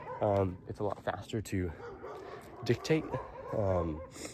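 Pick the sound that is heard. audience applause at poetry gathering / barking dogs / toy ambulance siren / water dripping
barking dogs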